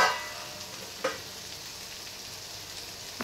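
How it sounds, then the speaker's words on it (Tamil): Dhaba-style cauliflower masala gravy simmering in a pan with oil rising, giving a steady soft sizzling, bubbling hiss throughout, with a brief clink near the start and no voices. "நம்ம ஊற்றுற எண்ணெய் எல்லாம் மேலே எழும்பி வரணும். அந்த அளவுக்கு இது நல்லா கொதிக்கட்டும்"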